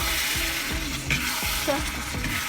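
Eggplant stir-fried with canned fish and egg in a pan, sizzling steadily while a utensil scrapes and stirs in a regular rhythm, close and fairly loud, with no talking.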